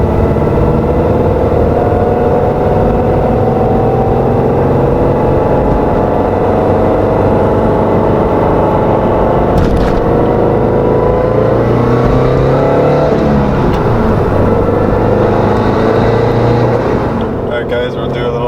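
A turbocharged Subaru Crosstrek FB20 engine pulls hard in gear, a loud, steady interior drone that climbs in pitch through a long acceleration before easing off near the end.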